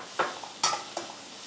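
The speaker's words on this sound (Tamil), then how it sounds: "வெங்காயம் பொன்னிறம் ஆகிற வரைக்கும் நம்ம வறுத்தாலே போதும்" Onions and green chillies fry in oil in a pan, with a soft sizzle and three quick scraping stirs of a spoon close by.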